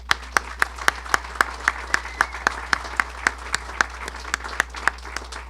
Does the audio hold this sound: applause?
yes